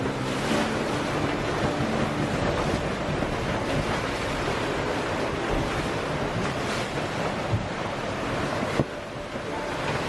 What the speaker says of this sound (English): We hit 40 knots of wind